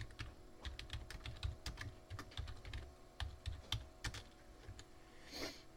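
Rapid, uneven keystrokes on a computer keyboard while typing out a short hyperlink label, close and clear, with a faint steady hum behind and no talk.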